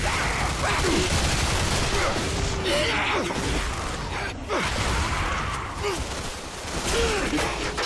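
Gunfire in the shooter game Bulletstorm, a dense and continuous clatter of shots and mechanical noise that runs nonstop at close range for the whole stretch.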